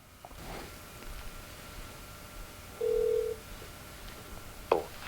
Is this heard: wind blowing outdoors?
no